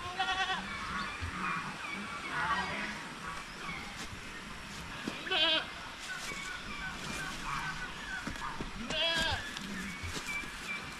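Several young goats bleat repeatedly at close range, some high and wavering, over a busy outdoor background with occasional voices.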